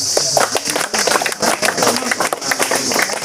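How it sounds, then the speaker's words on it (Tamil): An audience claps hands together at a talk about ants and termites, a steady scattered patter of many claps at close range that carries on throughout. "கைத்தட்டுங்க"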